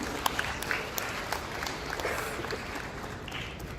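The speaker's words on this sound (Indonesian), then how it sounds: "Tepuk tangan untuk beliau" A graduation ceremony crowd at Universitas Islam As-Syafi'iyah applauds an honored guest, a soft, distant, steady wash of clapping with scattered sharper claps standing out.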